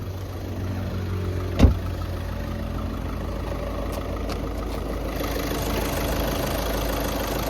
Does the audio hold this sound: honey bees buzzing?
no